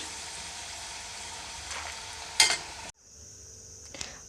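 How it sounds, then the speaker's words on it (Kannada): Peanuts frying in hot oil give a steady, close sizzle with a brief louder stir or clatter midway, then the sizzle drops to a quieter hiss and ends with a faint clink. "ಎಣ್ಣೆಯಲ್ಲಿ ಹಾಕ್ಕೊಂಡು ಫ್ರೈ ಮಾಡ್ಕೊಳ್ತೀನಿ ಶೇಂಗಾ ಬೀಜ ಕರೆದಿದೆ"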